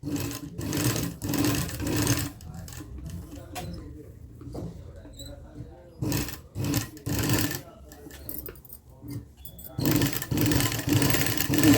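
A sewing machine stitches cloth in several bursts separated by pauses, with someone talking over and between the runs of close, buzzing stitching.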